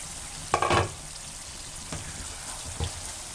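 Chickpeas frying in a pan on a very low flame, a faint, steady sizzle with a few brief louder bursts of stirring or crackling.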